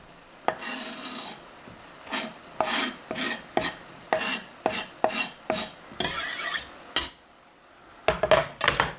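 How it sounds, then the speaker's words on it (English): Chopped chillies are stirred in a pan for chilli onion relish, a spoon scraping and rasping against the metal in close, repeated strokes that come in short bursts with brief pauses between them. "Give that a good old stir."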